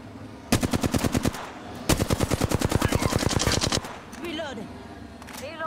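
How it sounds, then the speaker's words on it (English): Rapid automatic gunfire rattles during an Apex Legends firefight on the Olympus map, two long bursts of evenly spaced shots, loud and close, followed by quieter clicks and chirps. "Taking fire."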